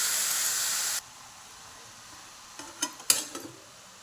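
Aubergine and squeezed spring onion greens sizzling in a pan give an even hiss that suddenly drops away, then a spoon stirs them with a few scraping clinks against the metal, close up and without talk.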